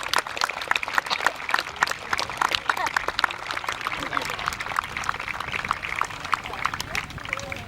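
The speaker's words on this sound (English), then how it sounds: "Give them a round of applause, please." Crowd applause at a historical reenactment event at Kirby Hall, with dense, rapid clapping that holds steady throughout, fairly loud, with a murmur of voices mixed in.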